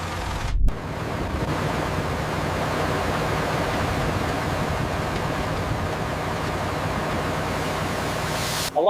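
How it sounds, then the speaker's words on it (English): Water gushing from a newly drilled well in the desert, a steady loud rush of broadband noise holding for several seconds after a brief thump, close to the microphone with no talk over it. "We hit it. We finally hit it. Yes, water! Look at that flow."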